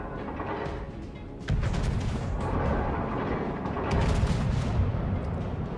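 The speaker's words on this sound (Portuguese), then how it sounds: "Olha só como os tiros eles vão tão assim espaçados." Battleship main guns firing in World of Warships in the Strait map, heavy booming salvos with deep rumbling blasts, one stronger volley partway in, over a continuous loud low roar of battle ambience.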